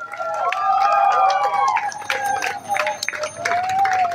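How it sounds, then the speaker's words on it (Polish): A festival crowd at Industriada in Ruda Śląska cheers and whoops loudly for the Rorschach Show stage act, a dense, sustained roar of voices with scattered clapping that swells and dips over several seconds. "Jeszcze raz ogromne oklaski!"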